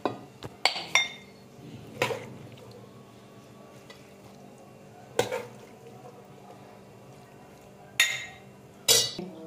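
A metal spoon clinks against a pot and serving dish as cooked white lobia is dished out, several sharp clinks and scrapes spaced across the clip with quiet pauses between.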